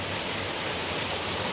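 Waterfalls on the Uvas Canyon loop trail pour in a steady, full roar, close and loud, with no voices over the rushing water.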